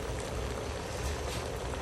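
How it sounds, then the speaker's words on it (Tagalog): Steady bubbling and gurgling of a pot of Kapampangan kilayin stew boiling on the stove, a continuous low rumble with soft popping, close and moderately loud, no talking. "Kumukulo na."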